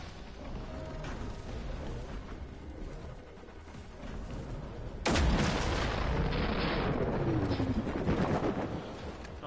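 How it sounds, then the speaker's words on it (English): .50 BMG rifle fire in the video game Generation Zero: a single loud, sharp boom cuts in midway and rolls into a long echoing tail over steady game background noise, with no talk. "Only took like 40 BMG shots"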